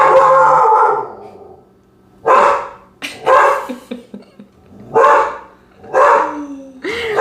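A dog barks in several sharp bursts spread across the clip, close and loud, with a brief whine or whimper near the end.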